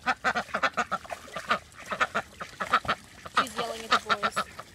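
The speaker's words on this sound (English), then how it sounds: "it's super quack quack over there, so Ducky jumped in." Several farmyard ducks quack loudly and close by in a rapid, uneven run of repeated calls, some overlapping, with no talking.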